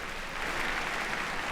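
A crowd at the E3 2017 Sony press conference applauds, heard as a brief, steady wash of clapping noise, moderately loud and even.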